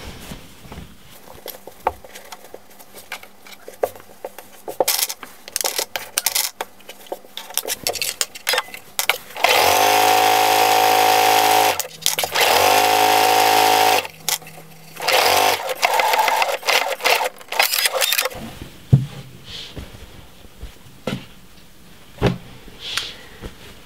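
A sewing machine stitches a sleeve onto a raglan top in two steady, loud runs of rapid motor hum, with a brief stop between them and handling noises around them.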